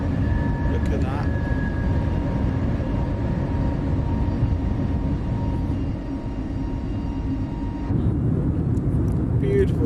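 Airbus A321neo engines roar loudly and steadily during takeoff and climb in Microsoft Flight Simulator 2020 on a Mexico City departure, a dense continuous rumble with faint tonal whines, under talk.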